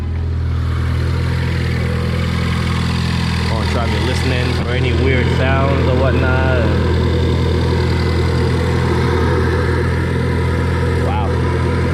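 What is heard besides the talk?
Ford Focus ST engine idling with intake suction noise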